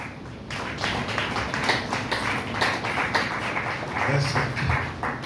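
A church congregation applauds the Lord with dense, continuous clapping that fills the room, steady and moderately loud throughout.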